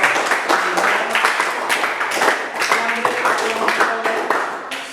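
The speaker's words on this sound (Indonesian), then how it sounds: "Tepuk tangan untuk" A classroom group applauds a presenting group in a Catholic religious education teacher-training session, dense steady clapping with voices mixed in throughout.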